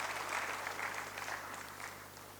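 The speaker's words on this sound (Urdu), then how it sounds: "آپ تمام لوگوں سے درخواست کرتے ہیں کہ تالیوں کے ساتھ استقبال کریں" Audience applause welcoming a guest at a Sir Syed Day event in Gomti Nagar, Lucknow: steady, dense clapping from a crowd, moderately quiet and tapering slightly toward the end.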